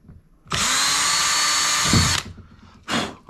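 A power drill bores holes through a kayak hull to mount a rod holder. It gives a steady, loud whine for about two seconds, then winds down, and a short second burst follows.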